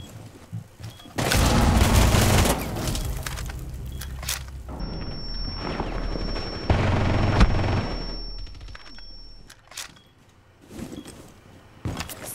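Rainbow Six Siege gunshots: loud bursts of rapid fire in two main volleys with quieter spells between, a steady electronic tone running through the middle and scattered shots near the end.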